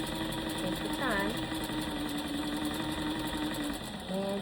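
Sewing machine stitching along a long skirt panel, a steady close mechanical whir with a brief pitch sweep partway through; a voice talks over it.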